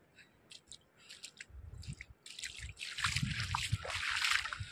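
Water trickles and sloshes as it flows in, starting with sparse splashy dribbles and building into a louder, fuller rushing pour toward the end.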